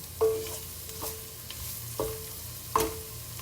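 Onions and garlic frying in a pan for squid adobo, with a soft sizzle under several distinct stirring scrapes and clinks of a utensil against the pan, spaced about a second apart.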